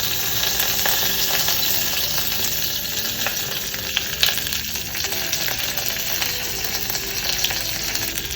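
Mustard seeds, cumin and curry leaves sizzle and crackle in hot oil as a steady, dense frying hiss with small pops scattered through it.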